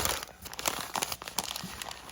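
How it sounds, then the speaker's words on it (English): Brown paper wrapping on a bead shop box crinkles and tears as it is pulled off by hand, in quick close bursts of crumpling with no talking. "Covered in some brown paper."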